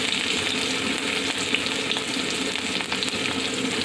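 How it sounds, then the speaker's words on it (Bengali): Whole cumin, a dried chili, chopped onion and garlic sizzle in hot oil for tempering, a steady close crackling fry with no talk over it. "বাগার দেওয়ার জন্য আমি পরিমাণ মতো তেল দিয়ে দিয়েছি, কয়েকটা আস্ত জিরা, একটা শুকনো মরিচ, আর দিয়ে দেব পেঁয়াজ কুচি,"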